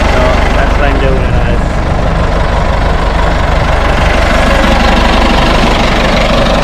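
A farm tractor's engine runs steadily in a field, a loud, close, constant rumbling drone with knocking texture, while a person speaks over it.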